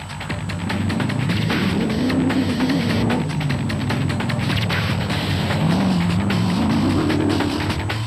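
Race cars in the 2007 Nissan Hluhluwe 400 off-road race on its final lap, a loud continuous engine drone that rises and falls in pitch as the car revs and shifts, steady and close throughout.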